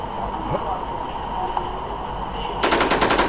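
Gunfire in the Warzone video game: after a stretch of steady in-game background hum, a rapid, loud burst of repeated shots erupts near the end, each report closely spaced.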